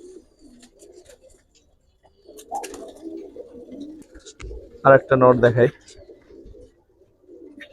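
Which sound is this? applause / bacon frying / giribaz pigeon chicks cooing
giribaz pigeon chicks cooing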